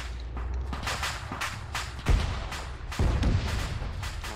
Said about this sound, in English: Machine gun fire going in.